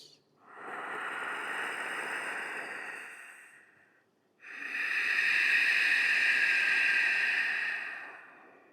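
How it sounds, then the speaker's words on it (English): Two long, slow, hissing ujjayi pranayama breaths, an inhale then an exhale, with a throaty ocean-like rush, close and fairly soft, separated by a brief pause. "we'll slowly begin Ujjayi Pranayama, ocean-sounding breath"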